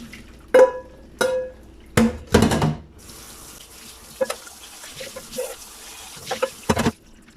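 A few clinks of handling, then a kitchen tap runs steadily into a sink while mandarin orange segments are rinsed. The water is close, with light splashes and knocks over the flow and no speech.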